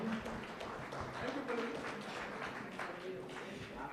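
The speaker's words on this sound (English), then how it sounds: "Can we have a great round of applause for the session?" A festival audience applauds at the close of a literary panel session, steady clapping from many hands lasting the whole stretch, moderately loud, with some voices faintly mixed in.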